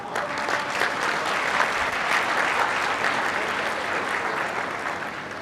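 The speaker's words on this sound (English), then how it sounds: "Big round of applause." An audience at a lucky draw applauds a winner with steady, full applause that holds at an even level throughout, many hands blending into a continuous wash.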